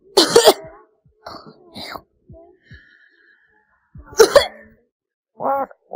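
Several short, muffled coughs and throat-clearing sounds, soft and spaced apart, with brief quiet gaps and a few faint murmurs between them.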